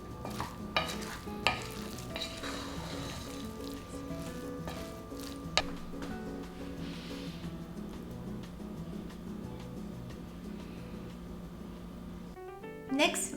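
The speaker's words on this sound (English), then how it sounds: "give it a gentle stir" Cooked Japanese mushroom rice with soy-simmered mushrooms is gently stirred in a pot, giving soft repeated scraping and squishing sounds with a few sharper clicks of the utensil, fairly quiet and close, under a low steady background tone.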